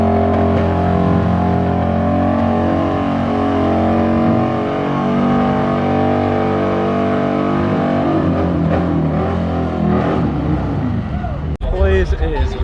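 An Ultima supercar engine drones and revs at a busy night car meet, a loud, sustained throaty roar that holds steady and then fades toward the end, with crowd noise around it.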